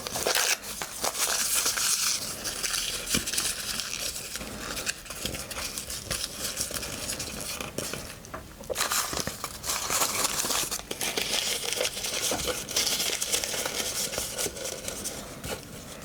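Newsprint paper being crumpled and crushed by hand for model scenery work, a dense, continuous crinkling and crackling that carries on without pause, close and fairly loud.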